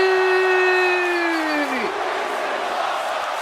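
A wrestling video game crowd roars loudly in a St. Louis arena, with a sustained cheer and a high chant-like tone that drops away, leaving a steady crowd wash.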